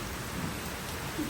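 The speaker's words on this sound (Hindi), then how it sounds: "जैसी बारिश आ रही है ना ऐसी बारिश में तुम्हारी गेहूं भी धुल जाते हैं" Heavy rain pouring down steadily, a dense continuous hiss that fills the short stretch, fairly close and unbroken.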